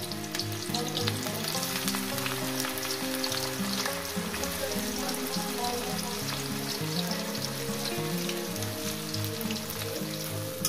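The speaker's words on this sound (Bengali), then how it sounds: "আমি পেঁয়াজটাকে প্রথমে ভেজে নেব" Onions frying in hot oil in a wok for a chicken dish, a loud, steady, rain-like sizzle that carries on unbroken with a faint hum beneath.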